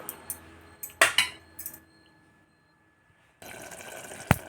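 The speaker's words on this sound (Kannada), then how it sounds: "ಈ ಮಸಾಲೆನ ಸ್ವಲ್ಪ ನಾವು ಕುಕ್ಕರಲ್ಲೇ ಚೆನ್ನಾಗಿ ಈ ಥರ ಮಿಕ್ಸ್ ಮಾಡ್ತಾಯಿರ್ತೀವಿ" A metal spoon scrapes and clinks against a pressure cooker while masala is stirred in oil, a few sharp clattering hits early, a quiet pause, then a louder stretch of scraping ending in one bright clank.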